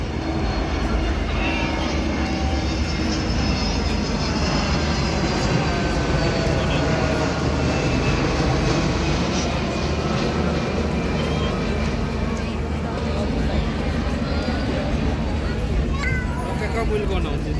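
An Airbus airliner flies an air show display at Bray, Wicklow, Ireland: a sustained loud jet roar rising and fading as it passes, with crowd noise underneath.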